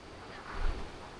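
Tham Phra waterfall in Bueng Kan province, Thailand, gives a steady, fairly faint rush of falling water with a brief swell of wind-like roar midway. No voices are heard.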